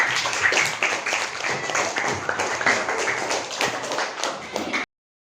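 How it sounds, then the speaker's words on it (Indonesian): A group claps steadily for about five seconds, dense and close, then the clapping cuts off abruptly into silence. "Tepuk tangan untuk kita semua."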